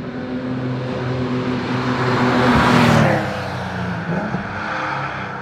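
A Porsche F350 Backdate runs on the Bilster Berg race track, its engine and intake note building to a loud close pass around the midpoint and then easing off as it continues, with no voices.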